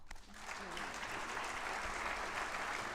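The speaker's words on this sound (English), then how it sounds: "So I think you deserve a clap." An audience at a heritage awards ceremony breaks into applause for volunteers, building quickly after a brief voice into sustained, even clapping from a full room.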